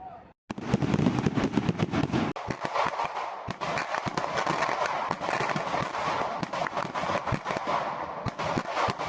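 Firecrackers burst during a village goddess festival in Medivada, a rapid, loud barrage of sharp cracks and bangs layered over a continuous crackling roar that lasts throughout, with no clear break.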